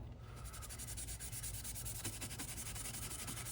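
Scotch-Brite pad scrubs light surface rust off a metal 3-jaw lathe chuck in quick repeated rubbing strokes, a close, steady abrasive scratching with no voices.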